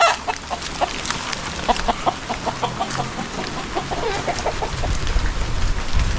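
Heavy rain pours steadily on a farm, a constant dense hiss throughout, with a chicken clucking repeatedly close by over the downpour.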